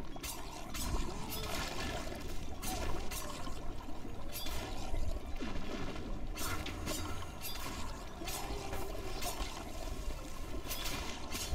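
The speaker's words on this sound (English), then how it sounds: "Oh, we're underwater." Steady underwater ambience in the Minecraft Dungeons video game: a continuous watery wash with soft bubbling and trickling detail, even in level throughout and with no talking.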